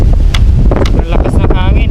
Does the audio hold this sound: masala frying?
no